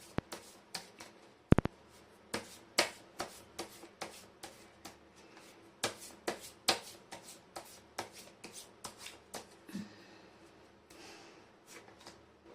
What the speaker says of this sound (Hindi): मैं कर लेती हूँ कार्ड की शफलिंग।